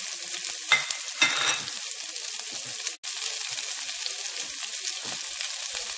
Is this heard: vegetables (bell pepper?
yes